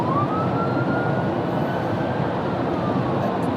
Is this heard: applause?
no